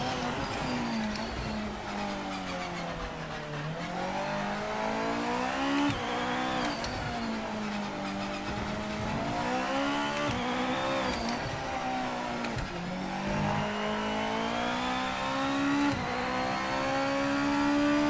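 A GT500 race car engine in the racing game Project Motor Racing revs hard and continuously, its pitch climbing and dropping through repeated gear changes, loud and close with no talking.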